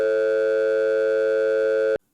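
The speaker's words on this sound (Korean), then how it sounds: "이런 소리도 결국은 진동수가 100 차이가 나는 맥놀이의 소리다라고 하는 걸 여러분 알 수 있죠." Steady electronic beat tone built from two pure tones 100 Hz apart, resembling an old telephone dial signal; loud and unwavering for about two seconds before cutting off abruptly.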